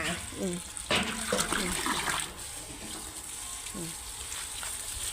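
Water sloshing and gushing as the water in a fish tank is changed at a garden house. The splashing is quiet, with a few louder pours, and people talk over it.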